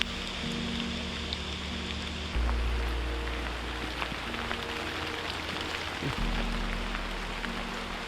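Rain falls steadily at the Omni Mount Washington Hotel Resort, a soft, even hiss of drops on surfaces with a low background rumble that shifts partway through, no voices.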